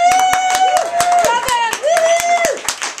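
Audience clapping at a comedy roast, loud dense hand claps in a quick steady rhythm, with a voice talking over the applause.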